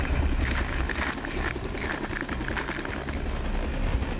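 A loud, steady firefighting helicopter roar with a throbbing rotor chop as it hovers fills the whole stretch, close and continuous with no voices.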